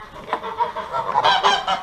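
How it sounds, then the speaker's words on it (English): Several farm geese honk in a short noisy burst as they are let out, the loud nasal calls overlapping and growing stronger toward the end. "we come over here and we let the geese out."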